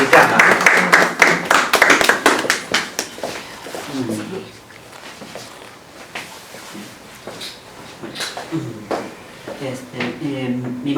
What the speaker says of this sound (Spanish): quiero que le den un fuerte aplauso a Pedro Roosevelt Moyo Guzmán